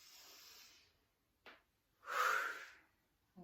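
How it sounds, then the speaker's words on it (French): Slow, deep breaths during a gentle exercise routine, an inhale followed by a long audible exhale, soft and close. "Inspire. Et souffle."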